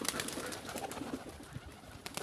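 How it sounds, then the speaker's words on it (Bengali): Pigeons at a pigeon farm, released after a long time, coo and flutter faintly in the background, with soft wingbeat rustles scattered through a quiet, distant scene. "পায়রাগুলো আমাকে দেখে অনেক ভয় পাচ্ছে এবং অনেক উড়ে বেড়াচ্ছে"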